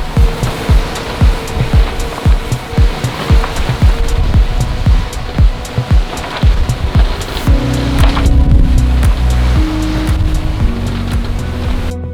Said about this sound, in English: The ocean was still rough as we approached Gambier